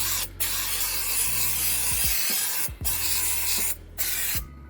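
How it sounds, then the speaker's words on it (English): Brake cleaner sprayed onto front brake parts of a 2007-2014 Skoda Fabia during a disc and pad change: three loud, close hissing bursts of aerosol spray, each a second or more long, separated by short pauses. "Get a bit of brake cleaner."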